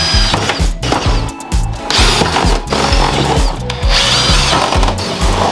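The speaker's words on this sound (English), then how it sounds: "Sometimes you just gotta drill some holes and hope for the best." Power drill boring holes for mounting a big carbon spoiler on a 2022 Subaru BRZ, loud and close with repeated bursts of grinding and ratcheting, brief pauses between passes.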